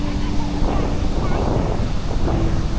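Steady roar of ocean surf at Marvanthe Beach with gusty wind buffeting the microphone, continuous and fairly loud throughout.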